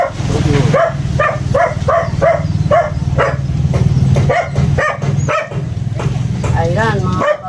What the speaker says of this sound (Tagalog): pasensya na lang sa mga asong maingay